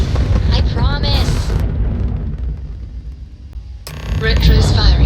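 Spaceship retro thrusters firing in Starfield, a heavy rumbling roar with bursts and booms that swell, dip to a lower drone, then surge again, with a voice speaking over the start.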